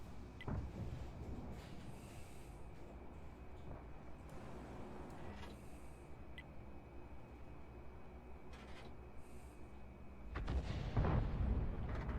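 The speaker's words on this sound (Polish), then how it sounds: "Artyleria strzeliła na ślepo znowu we mnie." A deep artillery boom in a video game bursts out near the end over a steady low rumble and faint distant cracks.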